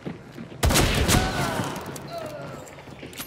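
A LeMat shotgun in Hunt: Showdown fires one heavy, close blast with a long rumbling tail, under a voice talking.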